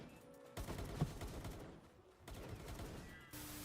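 Rapid bursts of AK rifle fire in a Genshin Impact game session, loud crackling volleys that pause briefly midway and then resume, with a short tonal game sound at the end.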